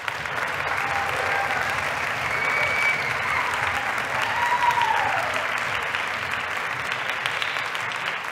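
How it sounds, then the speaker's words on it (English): A concert audience applauds the Symphonic Band after its first act, a loud, even wall of clapping that holds steady, with a few faint whoops or whistles rising out of it. "give once more a round of applause for the Symphonic Band on their spectacular first act"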